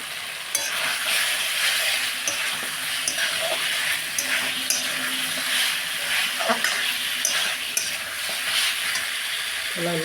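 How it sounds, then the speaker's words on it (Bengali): Koi fish with potatoes and dried lentil dumplings frying in a pan, a steady close sizzle broken by repeated scraping clicks of a spatula stirring, with no talk. "আর আলু এর মধ্যে দিয়ে কষলাবো।"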